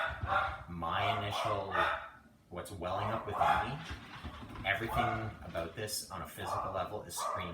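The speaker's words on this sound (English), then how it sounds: "I'm sorry about the dogs. I have not control of that situation upstairs." Dogs bark upstairs in a home during a movement practice session, repeated yapping running under someone speaking calmly over nearly the whole stretch.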